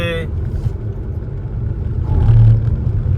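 Road traffic packed onto a crowded bridge in a jam, with a steady rumble and whir of car and motorbike engines throughout, swelling slightly near the end, and speech heard at moments.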